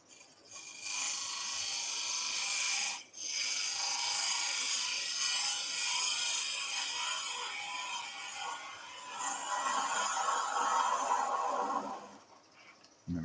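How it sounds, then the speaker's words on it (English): Wood lathe spinning while a small bowl gouge cuts the end of a salt and pepper grinder blank, a steady loud scraping whir with a brief pause near the start and a brighter, harsher cutting passage toward the end. "So lathe on, small bowl gouge."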